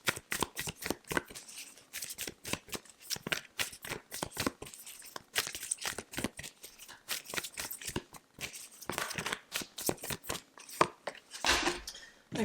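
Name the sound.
shuffling tarot cards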